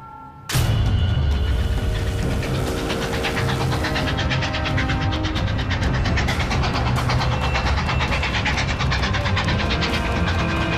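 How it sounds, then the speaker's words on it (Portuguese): A freight train rumbles past close by with a loud, continuous roar and rhythmic clatter of wheels on rails, starting abruptly and holding steady for ten seconds. "Um trem de carga corre em direção ao sul"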